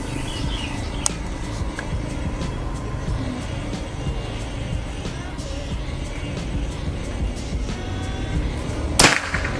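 A single sharp report from a Predator 500cc PCP air rifle with a folding CNC stock cracks out near the end against steady outdoor background noise, with faint earlier ticks.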